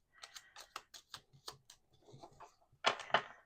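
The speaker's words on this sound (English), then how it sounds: "Gonna pull a few cards, see what falls out here." Affirmation cards are riffled and snapped in a quick series of crisp, close flicks, then a softer sliding shuffle, ending with two sharper slaps as cards are pulled from the deck, all at close range.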